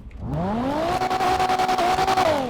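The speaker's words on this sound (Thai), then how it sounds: "นี่เสียงยังโหดนะครับเดี๋ยวทำการเบิ้ลให้คุณผู้ชมฟังแล้วกันเนาะ" A loud, close car engine in the video game GTA V, on a FiveM roleplay server, revving up and holding at high pitch, with a rapid stuttering rev-limiter pulse toward the end.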